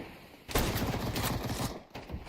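Rapid SMG fire crackles in a dense, loud burst during a professional Counter-Strike esports match, tapering briefly near the end.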